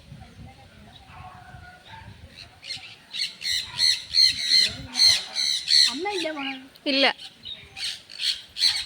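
A caged bird squawks in a rapid series of harsh, loud calls close by, starting after a few seconds and repeating rhythmically, with people talking briefly at the start.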